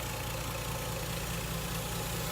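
Lexus GS300 with a new Flowmaster exhaust manifold and Magnaflow midpipe idling, a quiet, steady low rumble close by with no voices.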